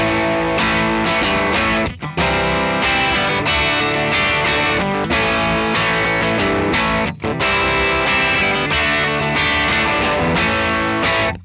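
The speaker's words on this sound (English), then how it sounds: "you're getting that lovely broken up distorted sound with a master volume to help you keep it all under control" Electric guitar played through a Fender Blues Deluxe tube amp driven into broken-up distortion, loud and continuous strummed chords with two brief dips, no voices.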